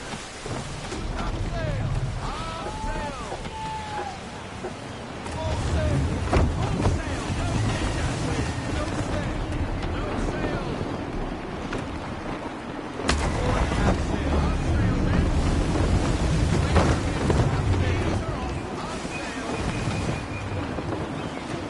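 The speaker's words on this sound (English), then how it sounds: "Gusty winds can be difficult to manage." Gusty wind buffets a sailing ship at sea in Assassin's Creed 3, with continuous loud rushing wind and water wash, surging louder around the middle and later.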